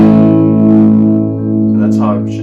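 A single strum of a guitar chord rings out loud and close, its sustained tone slowly fading over a couple of seconds before a voice begins speaking over the tail.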